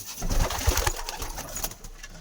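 Pigeons or doves coo steadily in a backyard coop where young birds are kept, soft low throaty calls repeating close by with no talk over them.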